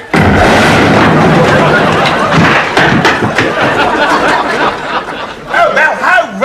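A petrol bomb explodes in a communal house, a loud, sustained roaring blast with crackling debris that fills the whole moment, with a voice breaking through toward the end.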